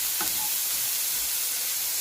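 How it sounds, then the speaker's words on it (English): A bacon and egg scramble mixture is stirred in a hot frying pan, a steady close sizzle with a scrape of the utensil near the start and no voices. "give it all a good stir around."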